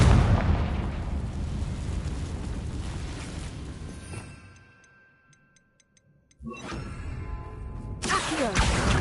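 Confringo fire spell in Hogwarts Legacy, a dense blast and crackling rumble that fades to near silence with faint ticking, then bursts back loudly.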